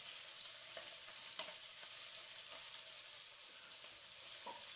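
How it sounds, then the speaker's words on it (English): Garlic cloves sautéing in a pan with fish for crappie scampi, a steady soft sizzle and fry with a few light stirring clicks, fairly faint and close, no talking. "now we're going to go ahead and add our garlic"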